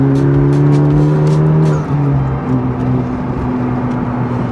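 A Honda Civic Type R on a factory base tune accelerates hard, its engine droning loud and steady from inside the cabin, the pitch dipping once as it shifts and then climbing again, with no talking.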